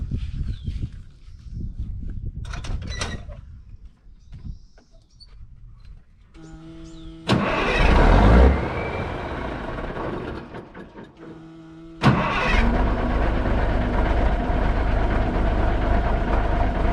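A 1983 Kenworth K100 truck is cold started: mechanical clicks and clunks, then the starter cranks loudly, and the diesel engine catches and settles into a steady, rumbling idle that fills the rest of the clip.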